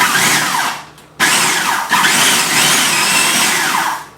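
A blender pulses briefly to mix melted butter into a cake batter, two loud whirring bursts separated by a short pause, the second running several seconds before cutting off, with no talking.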